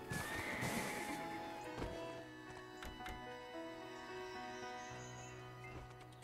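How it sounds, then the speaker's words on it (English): A ridden horse in the Black Desert Online video game, with a loud close whinny followed by clip-clop hoofbeats and game music tones, no talk. "As long as I'm doing nothing but riding a horse around"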